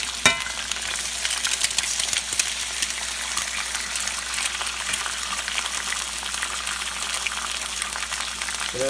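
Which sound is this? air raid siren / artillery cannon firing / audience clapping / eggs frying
eggs frying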